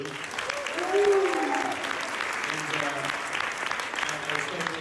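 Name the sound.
applause for the crew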